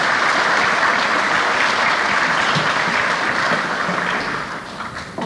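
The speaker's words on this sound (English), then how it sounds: "we can clap for that" A school concert audience at Faribault High School applauds, producing a dense, even wash of clapping from many hands that holds steady and then tapers off near the end.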